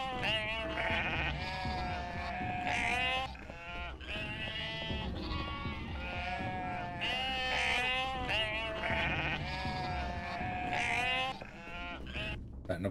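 A flock of sheep in the UnMetal video game bleats continuously and loudly, overlapping wavering cries filling the whole stretch with only brief dips.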